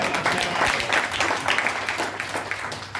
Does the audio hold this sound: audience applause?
yes